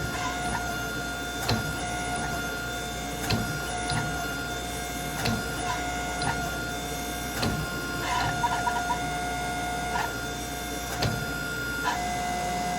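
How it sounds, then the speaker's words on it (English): A forging press draws out a Damascus steel billet for a chef's knife, droning with a constant tonal hum punctuated by regular heavy pulses about every two seconds. "Watching the press do its job and seeing how the steel moves"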